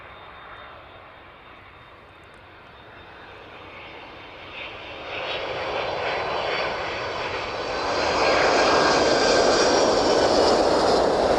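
Boeing 767 engines at East Midlands Airport in the evening, a continuous broadband jet roar that swells steadily as the aircraft approaches, loud and sustained with no voices.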